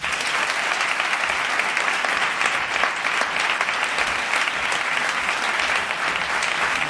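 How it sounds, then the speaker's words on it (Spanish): Studio audience applauding steadily to welcome a guest onto a Spanish comedy talk show set, a dense, even wash of clapping that stays loud throughout with no break. "un aplauso, señores, para el Gordo Master"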